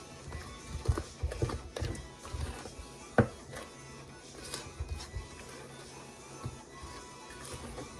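A streusel topping mixture for cinnamon muffins is stirred in a bowl with irregular soft taps and scrapes, fairly quiet and close, with no speech.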